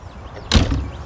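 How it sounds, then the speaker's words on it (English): The entry door of a 2023 Alante 29S motorhome swings shut with a single solid thud halfway through, after a quiet lead-in, followed by a brief rattle as it settles. "Now when we close the door,"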